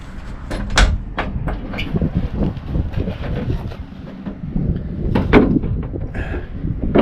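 Bumps, knocks and metallic clunks as a door is fitted onto a 1966 Plymouth Belvedere with bolts and hinges, the hits scattered irregularly over a steady background rumble, close by and moderately loud.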